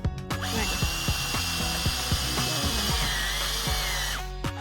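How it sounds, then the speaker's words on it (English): A power drill pre-drills a van's metal roof for a Maxxfan vent install, running steadily at high speed for about four seconds, loud and close, with a continuous whine. "I'm gonna pre-drill."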